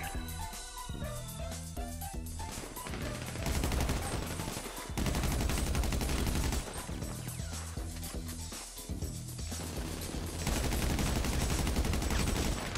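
Sustained automatic gunfire aimed at a Juggernaut in GTA Online rattles in long, dense bursts layered over background game music, fairly quiet overall with rhythmic repetition.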